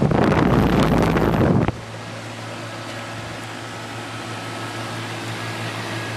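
Small 2003 American Standard central air conditioner outdoor unit running in the rain, a steady low hum and fan whoosh with rain hiss; a louder rushing burst at the start cuts off abruptly.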